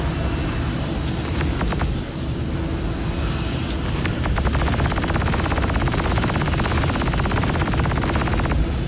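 Gunfire during shooting practice: a loud, continuous run of rapid machine-gun-like shots with a few separate cracks, heard alone with no talking.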